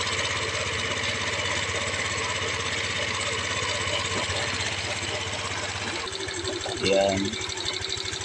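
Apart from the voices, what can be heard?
engine idling while warming up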